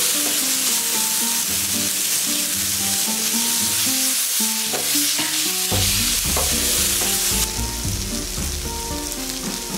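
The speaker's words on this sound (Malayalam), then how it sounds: "ചെറുതായിട്ട് കട്ട് ചെയ്ത് വെച്ചിരിക്കുന്ന തക്കാളി ചേർത്ത് വഴറ്റണം" Chopped tomatoes being sautéed into masala for a squid roast, with a close pan sizzle and stirring scrapes under steady background music.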